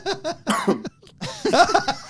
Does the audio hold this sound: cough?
yes